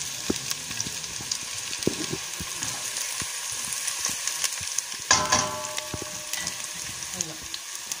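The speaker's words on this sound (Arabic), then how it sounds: "ننزل الثوم، خليه كمان يتشوح شوي تيعطي نكهة الثوم لهيدا الزيت" Garlic sautéing in hot oil in a pan, a steady soft sizzle with scattered crackles and spatters, briefly louder about two-thirds of the way through.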